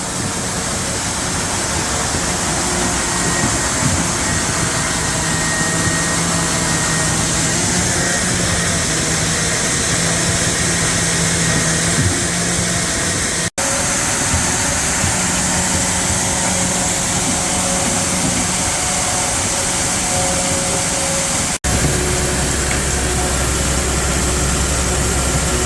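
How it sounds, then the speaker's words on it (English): Grain bin auger running continuously in a Nebraska farm setting, a loud, steady mechanical drone with constant hum and whir throughout, without talk. "Then we turn the bin auger on."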